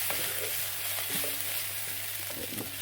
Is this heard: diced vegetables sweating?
yes